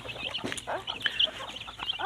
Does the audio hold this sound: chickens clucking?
yes